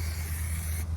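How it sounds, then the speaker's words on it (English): Doe estrus scent sprayed from a bottle outdoors during a deer hunt, a steady close hiss lasting nearly a second before cutting off abruptly, with a low rumble of wind underneath. "I'm gonna go ahead and spray out some of the doe and estrus"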